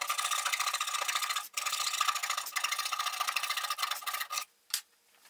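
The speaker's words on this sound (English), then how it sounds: "You can use just a coping saw to cut these parts out." A coping saw cuts out wooden parts for a 4x4 pole pot slider with quick, steady rasping strokes, close and fairly quiet, a brief pause in the middle and the sawing stopping near the end.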